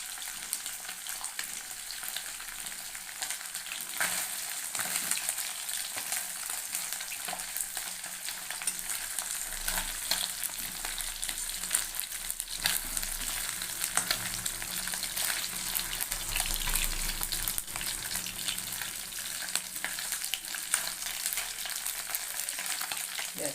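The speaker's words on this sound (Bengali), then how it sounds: "যাদের আমি ভাজবো কিন্তু একদম পুড়িয়ে ভাজবো না" Tengra fish fry in hot oil in a pan with a continuous close sizzle and crackle, broken now and then by the scrape of turning, and no talking.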